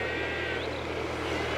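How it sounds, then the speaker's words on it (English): Sheep bleat faintly in a field beside a canal, one short bleat rising over the steady, loud drone of a narrowboat engine. "I think I found the sheep"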